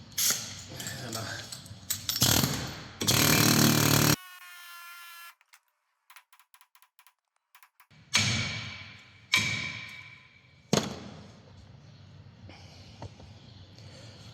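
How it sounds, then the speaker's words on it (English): A hammer strikes a Dacia Duster brake disc during a front pad and disc change, several loud metallic clanks and thuds in separate bursts with quiet gaps between. "you can sort of give it lots of hammering around there"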